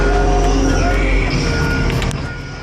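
A large truck backs a trailer into a tight parking spot, with a loud engine rumble and repeated reversing beeps close by, easing off toward the end.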